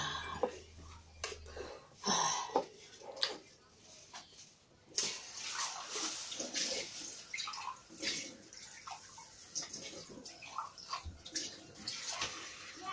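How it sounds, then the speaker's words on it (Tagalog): Water sloshing and splashing in bursts as someone rinses, close and intermittent, with gargling-like wet sounds and brief breathy pauses between rinses. "imong waswasan og tubig."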